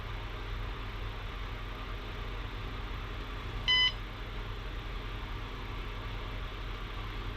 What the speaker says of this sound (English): That's the battery meter alarm squawking at us.